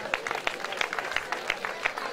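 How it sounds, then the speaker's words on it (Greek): Warm applause from an audience at a cultural association gathering, quick scattered claps with several sharper hand strikes standing out, moderately near and fairly soft, continuing steadily with no voice over them. "Θερμό χειροκρότημα"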